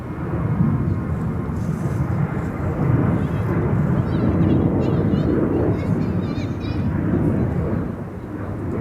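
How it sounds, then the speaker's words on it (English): Wide-body airliners approaching Amsterdam Schiphol near the Polderbaan runway, heard as a continuous loud, deep jet roar that swells and fades slightly over several seconds. "The wide bodies are coming."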